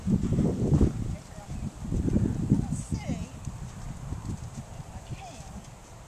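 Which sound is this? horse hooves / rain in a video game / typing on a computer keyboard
horse hooves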